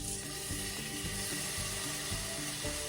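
Salmon fillets sizzle and spit steadily skin side down in a hot pan, a dense crackling hiss close by with faint clinks underneath.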